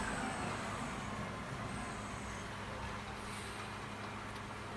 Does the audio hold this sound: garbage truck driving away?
yes